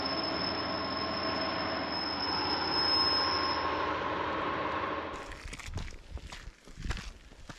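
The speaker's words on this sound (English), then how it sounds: "here's that stone train that has been slowly following us up from Arcow" A stone train rumbles steadily across the Ribblehead viaduct on the Settle and Carlisle line with a faint high squeal, then fades away, leaving nearby footsteps crunching on gravel.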